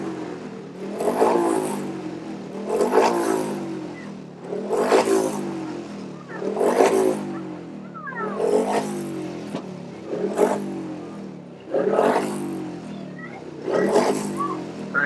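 Grasstrack racing motorcycles sweep round a turn one after another, each engine swelling loud and revving then fading in a repeating rhythm about every two seconds, with a commentator talking faintly underneath.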